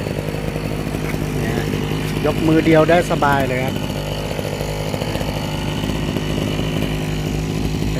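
A used, lightweight two-stroke Japanese backpack brush cutter engine runs at a steady buzzing idle close by, with someone speaking over it part of the time.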